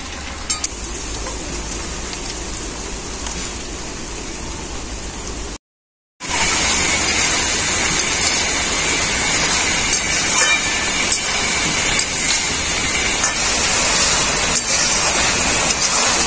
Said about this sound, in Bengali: ওইদিকে বলতে বলতে বৃষ্টিও আরম্ভ হয়ে গেল